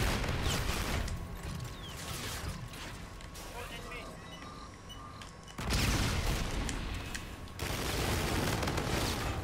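Rapid weapon fire from a laser pistol in the video game Call of Duty: Infinite Warfare, heard in a busy, noisy mix with booms and mechanical sounds, loud bursts returning after a quieter stretch, with voices talking throughout.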